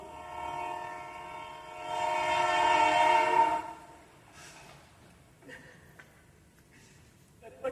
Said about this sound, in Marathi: ट्रेन आली वाटतं